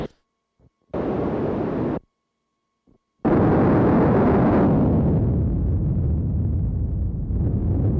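High-pass filtered white noise from a Eurorack modular synth: a steady hiss burst of about a second, a pause, then a sustained loud wash of noise that gradually darkens and softens.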